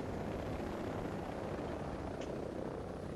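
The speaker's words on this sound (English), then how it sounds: "Yeah, they got helicopters." Steady whirring rotor drone of helicopters in Ghost Recon Breakpoint, a continuous broadband roar with no speech over it.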